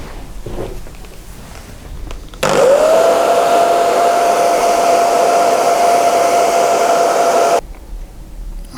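A hair dryer drying freshly applied colour on a leather scuff repair switches on loud and close, blows in a steady whine for about five seconds, then cuts off.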